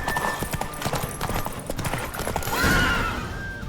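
Roach, a horse in The Witcher 3, gallops with steady loud hoofbeats and lets out a whinny partway through, with game music and ambience underneath.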